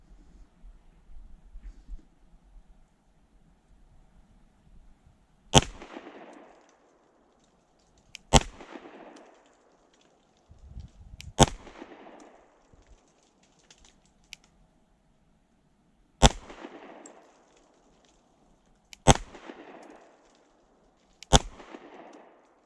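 A CZ Shadow 2 Compact pistol fires single rounds at a target, six sharp, loud shots spaced a few seconds apart, each cracking close by and trailing off quickly into a quiet, faintly noisy background.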